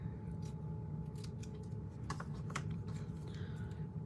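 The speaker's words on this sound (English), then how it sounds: "We're going to do the same thing and cut it into a little" Scissors snipping blue card stock into a small flag-style banner for a 3x3 greeting card, several short crisp cuts close by over a steady low background hum.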